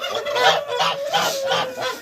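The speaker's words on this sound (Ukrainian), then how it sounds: "Гуси." Domestic geese honk repeatedly in a farmyard, a rhythmic series of nasal calls from several birds close by, with no talk over them.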